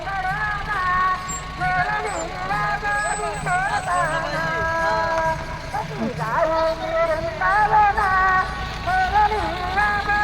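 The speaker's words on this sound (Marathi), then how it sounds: "आणि हा सर्व गाड्यांचा ताफा आहे" Heavy road traffic with trucks and buses in a vehicle convoy rumbling past during a Madhi to Pandharpur pilgrimage procession, a hiss of air brakes, and a busy crowd chattering throughout.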